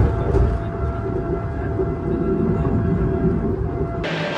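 Inside a Vande Bharat Express arriving at Kharagpur Junction, a steady low rumble and hum continue throughout, with a brief higher-pitched swell near the end.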